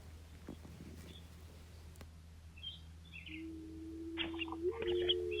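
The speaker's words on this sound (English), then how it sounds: "Mourning dove's name comes from its mournful call, which is sometimes confused with an owl's hoot." A mourning dove in a backyard gives a single low, drawn-out coo that swells slightly at the end. It is fairly faint against a quiet outdoor background.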